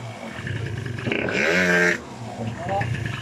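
An MBK Booster 70DR scooter fitted with a Malossi clutch spring revs up sharply to a loud buzzing peak, then drops back to a rough idle, heard close up.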